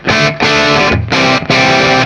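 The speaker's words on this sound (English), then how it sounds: "So if you want lighter distortion, I'll start with the volume full." An electric guitar through a Marshall 1987x amp head with light distortion, guitar volume full, plays distorted chords in three strummed bursts, each ringing out fully before a short break, loud and up close.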